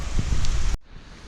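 Rain falling outdoors during a dig, a dense, close, steady patter and hiss that stops abruptly partway through, leaving a faint quieter background.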